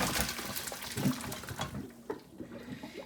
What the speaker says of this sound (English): So I'm going to take this over to the sink and I'm going to drain it.